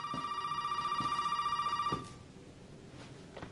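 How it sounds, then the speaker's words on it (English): A telephone rings in the video game Resident Evil 7, a steady electronic trill for about two seconds before cutting off, followed by faint footsteps. "I'll get the phone."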